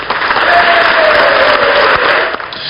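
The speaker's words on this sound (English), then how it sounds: "Lieutenant Colonel Dryden was interrupted by applause as he tried to tell the House that his squadron never lost a bomber in combat." Loud, sustained applause from lawmakers fills a state House chamber, a dense steady clatter of clapping hands lasting throughout with no voices over it.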